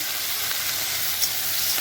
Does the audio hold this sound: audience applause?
no